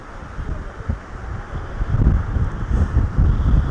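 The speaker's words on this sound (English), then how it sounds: "It's so windy I can barely hold the camera still." Strong wind buffets a handheld microphone on a Lake Winnipeg beach in Manitoba, Canada, producing a loud, continuous low roar with gusty surges that grow heavier toward the end.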